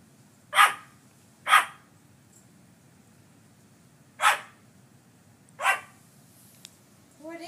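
A dog barks indoors, four sharp separate barks spaced unevenly over several seconds against a quiet background, with a faint whine near the end.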